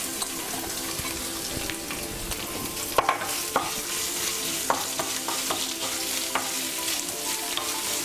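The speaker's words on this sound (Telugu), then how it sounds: "కరివేపాకు వేసుకుందాం. ఇవి బ్రౌన్ కలర్ వచ్చే వరకు ఫ్రై చేసుకుందాం." Curry leaves fry in hot oil in a pan, giving a steady close sizzle with scattered crackles and pops throughout, along with light clinks of stirring.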